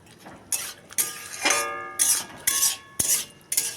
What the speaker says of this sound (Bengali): শাকের জলেই শাকটা নেড়ে চেড়ে জলটা শুকিয়ে ভেজে নিতে হবে।